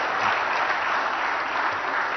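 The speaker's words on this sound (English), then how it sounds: "One loud round of applause for all of our winners of the day." Loud, dense applause from the audience for award winners at an innovation summit and awards ceremony, a sustained even roar of many hands clapping with no break.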